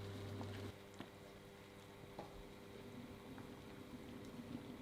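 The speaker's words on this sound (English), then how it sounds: "Now stir it all together again and bring it to a simmer." Creamy Cajun sauce with grated parmesan simmering in a pan, a steady soft bubbling and faint popping that stays even and close throughout, alone with no talk.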